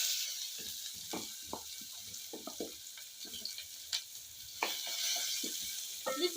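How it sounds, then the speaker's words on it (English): Chopped onion, about one whole, is tipped into a hot frying pan and sizzles with a steady crackle. Scattered stirring scrapes and clatters sit on top, and no one speaks. "So I'm going to add my onions."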